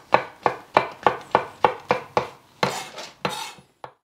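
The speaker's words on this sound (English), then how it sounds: "Mushrooms we're going to slice up and we're going to use these later in the process." A knife thinly slicing mushrooms on a cutting board for shoyu ramen with pork gives about nine evenly spaced, close, crisp taps, then a few slower, softer strokes with no talking.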